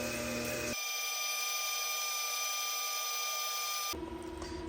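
Reamer cutting a 22 Creedmoor rifle chamber for a Ruger SFAR with coolant running: a steady high mechanical whine with bright ringing tones holds evenly for about three seconds between noisier machine sounds at either end.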